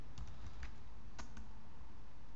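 Short bursts of keystrokes on a computer keyboard while a mysqldump command is entered, a few quick clicks in uneven clusters, close and fairly quiet with no talk.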